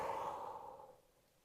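A single long exhale during a beginner ab exercise, a breathy sigh-like rush of air that fades out over about a second, close and alone.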